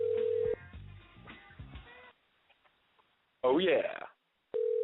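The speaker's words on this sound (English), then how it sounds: "As that phone rings" A telephone call goes out with a tone, then a ringback pulse, with someone speaking briefly in between over a phone line.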